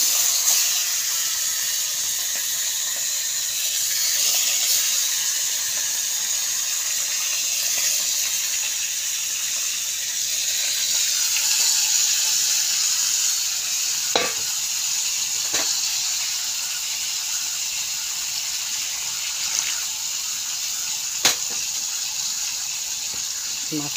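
Fish frying in oil in a wok, a loud continuous steamy hiss and sizzle held for a long stretch, with a few sharp clicks and pops near the end.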